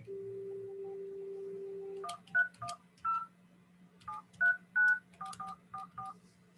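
Touch-tone telephone dialing: a steady dial tone for about two seconds, then a quick irregular series of around a dozen DTMF key beeps, clear and close against a faint low hum.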